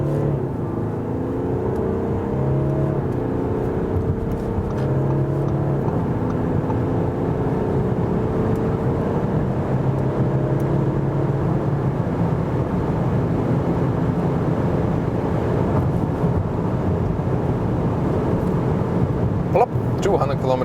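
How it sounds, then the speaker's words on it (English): A 2020 Audi A6 allroad quattro diesel accelerates hard toward 200 km/h, its engine and wind roar holding loud and steady, with rising gear tones and a continuous dense rumble, no talking. "very smooth acceleration from this all-wheel drive"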